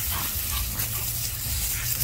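Puppies yipping and whimpering close by, a few short high cries over a low background hum.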